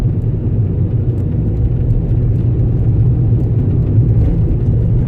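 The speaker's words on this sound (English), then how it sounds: "I'm going to show you that I engage all the gears up to fifth gear." Citroën Nemo van driving, with a steady, loud engine and road rumble that continues unbroken as it runs up through the gears to fifth, and no talk.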